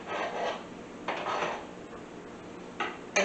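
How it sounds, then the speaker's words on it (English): Faint soft scrapes and light clinks as corned beef cubes are laid on top of a pot of corned beef and cabbage, a few short bursts of contact with pauses between. "Now I'm going to add our corned beef cubes. Just going to lay those on the top so they can warm up."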